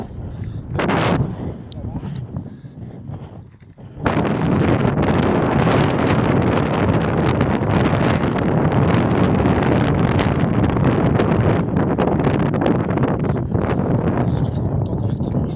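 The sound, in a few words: wind blowing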